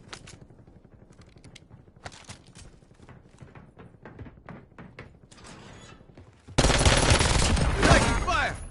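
Rapid gunfire in a shooter video game, a string of sharp distinct cracks and shots followed by a sudden loud sustained blast of noise near the end.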